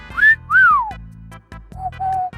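A person whistles a few short sliding notes, rising and then falling, close and clear with no other sound.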